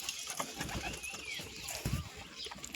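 Pigeons, including a white one, coo softly and intermittently among other birds, with a few low wingbeat-like thumps and faint background chatter.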